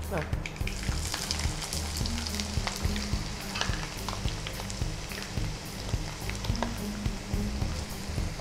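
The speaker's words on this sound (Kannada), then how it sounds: "ಈಗ ನೀರುಳ್ಳಿ ಹಾಕ್ತೇನೆ" Onion added to a hot mustard-seed and asafoetida tempering sizzles and fries steadily up close, with crackling spatters and occasional stirring throughout, no voices.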